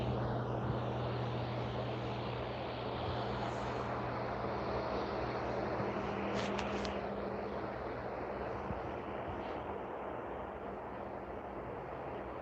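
A cargo jet at Vancouver International Airport, its engines making a steady, broad roar at a moderate distance that holds throughout with no talking.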